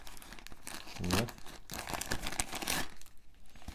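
Crinkling and tearing of a small plastic packet from an AliExpress order being opened carefully, with uneven rustles and crackles close up and a brief spoken word.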